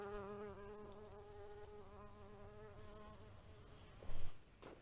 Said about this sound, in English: Bumblebees are working these beans, y'all.